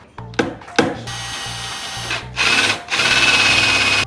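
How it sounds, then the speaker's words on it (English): A power drill whirs in short bursts while drilling holes for rivet nuts, then runs in two longer sustained stretches, close and fairly loud with a steady whine. "I'll drill, we'll do rib nuts here"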